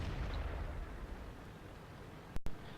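A tank burning from an internal fire in a tank video game, heard as a low, continuous roaring rumble with two sharp pops close together near the end.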